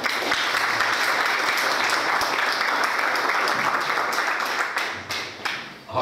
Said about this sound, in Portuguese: Eu peço uma salva de palmas para eles.